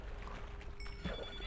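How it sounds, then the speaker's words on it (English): A telephone rings in a house, a faint electronic trill with thin tonal lines over a murky background hum, heard in short bursts rather than a loud close ring. "Oh my god, and it keeps ringing."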